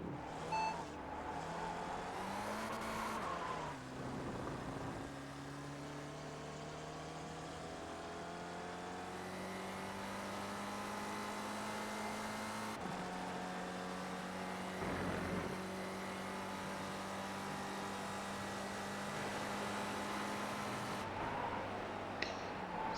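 Spec Ford race cars lap Road Atlanta in iRacing, one engine droning loud and close with steady harmonic tones that climb and drop through gear shifts. A sharp dip marks each shift, and other cars can be heard faintly nearby.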